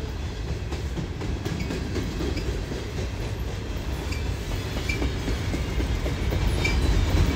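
A long mixed manifest freight train with mid-train DPU locomotives and a caboose rumbles steadily past nearby, wheels clacking over rail joints in a continuous rolling roar that grows slightly louder toward the end.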